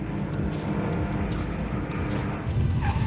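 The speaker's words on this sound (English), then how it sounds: "under pressure from Johan Pretorius in his blue Ford Escort RS as they head into BMW Performance Parts." Racing cars, including a Ford Escort RS, roar past at speed, engines droning and rising in pitch, with a continuous rushing engine noise.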